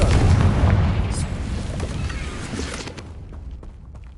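A Confringo fire-blast spell from Hogwarts Legacy detonates as a loud, close explosive boom that rumbles and slowly fades over several seconds.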